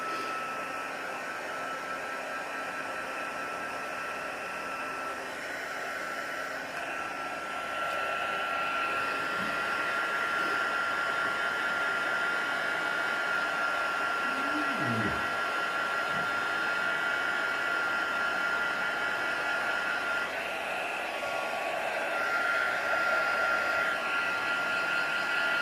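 Hair dryer blowing steadily to dry a handmade smudging wand, a constant close whooshing hiss lasting throughout with slight changes in tone as it moves, no talking.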